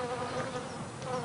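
A steady swarm of bees in a garden buzzing continuously, a dense droning hum filling the short moment without pause.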